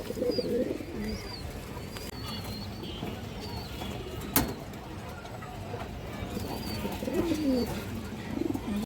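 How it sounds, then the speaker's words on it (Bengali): Pigeon coos from a loft where a Jiragola hen and other racing pigeons are kept, a few soft throaty calls rising over steady background noise, with faint chirps and a brief sharp click near the middle. "একটা মাদি কবুতর আছে খুব সুন্দর একটা জিরাগলা মাদি"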